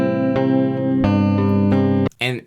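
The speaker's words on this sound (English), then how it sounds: "I'm gonna bounce the dry track, which sounds like this." Dry, unprocessed instrument track from a beat-making session, sustained tonal chords changing at regular intervals with sharp attacks, then a short burst of speech-like sound at the end.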